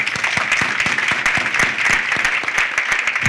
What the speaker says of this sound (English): You can give the Provost a better round of applause than that